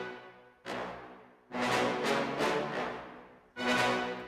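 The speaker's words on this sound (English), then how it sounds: "I utilized a bunch of brass instruments." Brass section of trumpets, horns and trombones playing a Terraria-style boss theme intro in loud, sustained swelling chords with short gaps between phrases.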